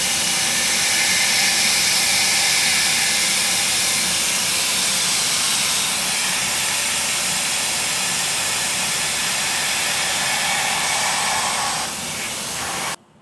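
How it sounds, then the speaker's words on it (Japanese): A cutting tool machines cemented carbide with a deep cut, giving a steady, loud, hissing roar that holds for about twelve seconds before cutting off abruptly. "普通に削れてますね"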